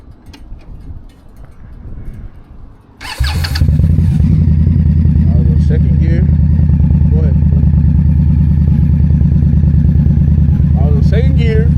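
An Indian Scout Bobber motorcycle engine kicks in after a few seconds and then runs as a loud, steady, close droning rumble while riding, with a voice speaking over it.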